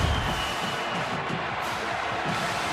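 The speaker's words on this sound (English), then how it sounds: "And a fired up Auburn crowd." A fired-up Auburn football crowd at a college game against Alabama roars in a steady, dense wash of cheering that holds at an even level throughout, with no clear individual voices standing out.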